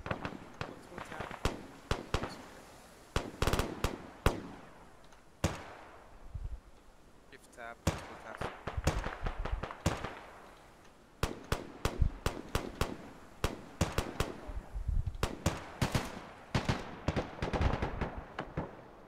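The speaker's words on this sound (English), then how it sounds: "We're hearing a lot of gunfire," Gunfire in the military video game ArmA 3, scattered sharp shots and rapid bursts crackling in uneven clusters, some near and punchy, others fainter, with voices talking over the exchanges at times.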